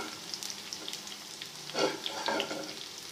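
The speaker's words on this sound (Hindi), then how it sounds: "अब हम इसमें प्याज शामिल कर रहे हैं।" Onion dropped into a hot pan of garlic and mutton fat for tawa-fried mutton liver sizzles steadily, with a louder burst of crackling frying midway, no talking.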